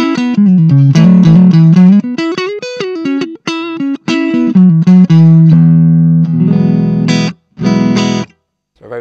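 Guitar played through the clean channel of a Marshall MG10 combo amp, a close, loud run of single notes and short phrases with brief pauses and a few sustained chords, no talking.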